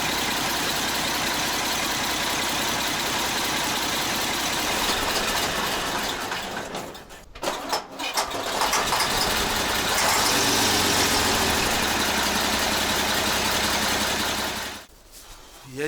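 A Praga V3S 6x6 truck's engine idles roughly, unable to hold mid revs, with a steady rattling drone that dips and stumbles midway, recovers, then briefly cuts out near the end.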